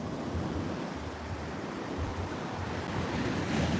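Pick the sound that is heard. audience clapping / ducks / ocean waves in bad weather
ocean waves in bad weather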